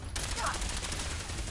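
Sustained automatic gunfire rattles through a firefight in Fallout 4, a dense continuous burst of rapid shots starting abruptly and holding loud for the whole stretch, with no clear speech on top.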